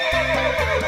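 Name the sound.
horse neighing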